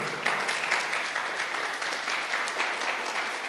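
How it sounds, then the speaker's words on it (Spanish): Church congregation applauding loudly during a Spanish-language worship service, a steady, dense wash of clapping from many hands that fills the whole moment without pause. "Dele palmas fuertes a su Señor."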